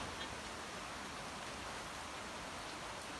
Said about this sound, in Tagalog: O, umuulan.